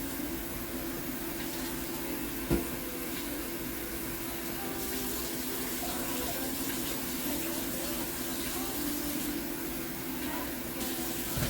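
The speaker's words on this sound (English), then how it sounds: "let's get this rinsed" Tap water runs steadily into a sink as food is rinsed beneath it, a constant soft hiss and splash at moderate distance with one faint knock partway through.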